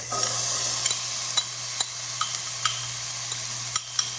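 Carrots, celery, onion and garlic sautéing in oil, a steady near sizzle with a low hum underneath and light regular ticks of a spoon stirring, no speech.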